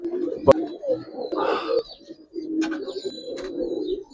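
Pigeons coo near a stall selling full-crop pigeons, soft low murmuring calls repeating through the clip, with a sharp clap near the start and faint chirps above.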